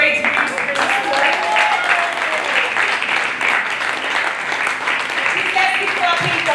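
An audience at a school challenge finale at a university in Lagos claps steadily for a school team, a dense sustained wash of applause with a voice speaking over it.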